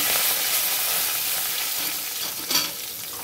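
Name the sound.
tempering five-spice, dried chilli, bay leaf sizzling in oil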